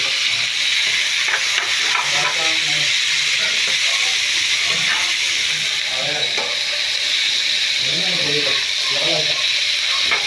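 Sitaw (yardlong beans) adobo fries in a pan with a steady, loud sizzle and hiss throughout, while a voice speaks intermittently over the cooking.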